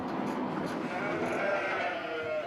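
A flock of ewes in the Pyrenees bleats over and over, several overlapping calls forming a dense, continuous chorus close by, with the hum of a crowded sheepfold behind it.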